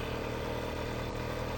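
A motorized bicycle's ported two-stroke engine idles after warming up, a steady close, even putter with a fine rapid pulse and no talk.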